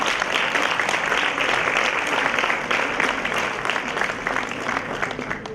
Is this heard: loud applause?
yes